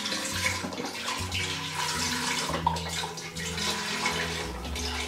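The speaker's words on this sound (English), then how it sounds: "We're going to put the broth into the pan." Beef broth, 32 ounces, is poured into a pan for vegetable soup, a continuous liquid splashing and gurgling stream heard close up with no talking.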